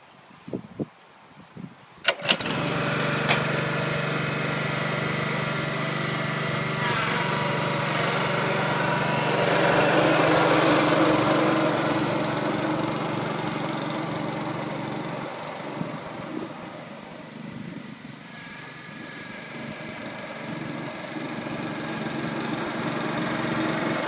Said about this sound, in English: use a Toro roller to roll the green